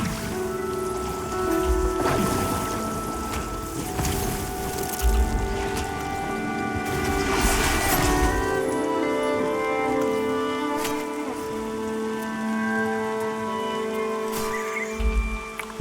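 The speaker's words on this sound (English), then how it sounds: "Got quite a rainy day here." Rain falling in the video game Pantheon Rise of the Fallen, a steady patter of drops on surfaces alongside sustained ambient musical tones, with no voices.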